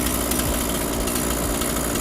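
A small two-stroke engine idles at about 3500 rpm on STIHL fuel mixed 25:1 with a new spark plug. It makes a loud, close, continuous buzzing rattle that holds steady throughout, with no voices.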